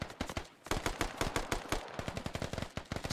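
Rapid automatic gunfire in the video game Squad, dense bursts of sharp close shots firing in quick succession with brief gaps, loud and without talk.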